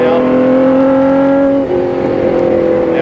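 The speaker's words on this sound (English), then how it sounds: "Picking up a little speed in the engine now." A 1960s–70s road racing car's engine holds a loud, steady, close drone, then dips briefly and climbs again as the car gains speed.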